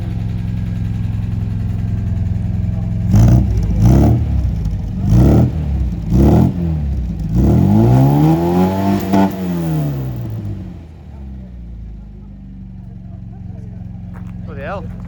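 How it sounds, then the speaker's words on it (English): A classic MGB Roadster engine, heard under its bonnet, revs hard in a series of sharp blips, then climbs to a sustained high-rev howl that falls away and settles back toward idle; voices are heard over it. "It's never revved that high in its life."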